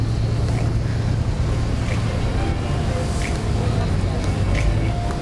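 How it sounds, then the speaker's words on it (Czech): Boats motor along a Venice waterway, with a steady low engine hum mixed with broad wind and water wash. The sound stays at an even, fairly loud level throughout. "A tady můžete vidět, jak tu ty lodě plujou."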